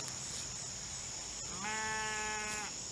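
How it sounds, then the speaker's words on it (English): Newly arrived sheep on a farm give one clear, wavering bleat that lasts about a second, close by, against a quiet outdoor background with faint insect hiss. "These are the new sheep that we just brought in."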